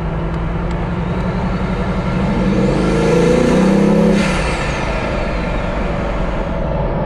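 A 2011 Bugatti Veyron in Dubai idles close by with a deep, loud engine note that swells into a brief rev near the middle, then settles back to a steady rumble.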